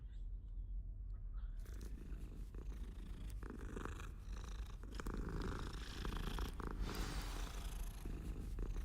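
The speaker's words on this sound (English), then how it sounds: "Pet the cat." A cat purrs steadily and loudly at close range as it is petted in the video game Hogwarts Legacy, a continuous rumbling throb that starts after a brief quiet moment and continues without speech.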